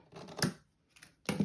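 Scissors snip through a large leftover scrap of scrapbooking paper in two short crisp bursts separated by a brief pause, close and fairly quiet.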